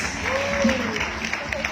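Applause from the audience at a Man of the World 2022 press presentation in Baguio City, a steady wash of clapping filling the room while a voice carries over it.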